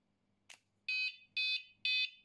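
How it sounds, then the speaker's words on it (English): A cheap remote-controlled anti-theft alarm on an electric scooter sounds a brief chirp followed by three loud, evenly spaced electronic beeps, close and piercing. "This particular device has a remote control, so it works just like a car alarm"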